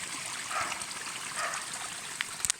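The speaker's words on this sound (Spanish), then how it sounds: "sale el agua." Spring water flows out between rocks in the countryside, a continuous nearby trickle and gurgle with a few small splashes toward the end.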